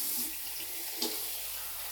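Water runs steadily from a bathroom tap for a rinse after a wet shave, a soft continuous hiss and splash, fairly faint and unbroken, with no one speaking.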